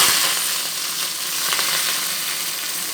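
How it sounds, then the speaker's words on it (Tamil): Mustard seeds and roasted peanuts sizzling as they are tempered in ghee for bisi bele bath, a loud, steady hiss and crackle throughout, with no talking. "கடுகும் போட்டு தாளித்து விட்டுருக்கேன்."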